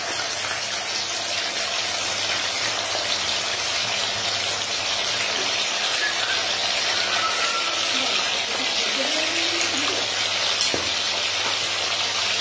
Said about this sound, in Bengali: ওইদিকে কড়াইতে তেল গরম হয়ে গেছে, এবার চিকেনগুলো ভেজে নেব।